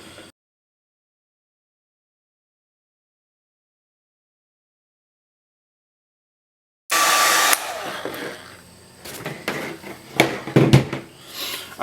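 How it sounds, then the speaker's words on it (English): A Revlon 1875 watt Edge hair dryer switches on after a long silence and blows with a loud, steady whooshing roar that wavers as it is moved around, with no talk. "here's my wife's tactical Revlon 1875 watt Edge hair dryer."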